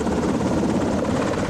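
Black Hawk helicopter rotor heard as a dense, steady, throbbing drone, loud and continuous throughout, with no voices over it.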